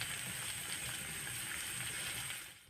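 Thick-cut onion pieces fry in hot oil, giving a steady, dense hiss and crackle close by that fades slightly at the end, with no voices.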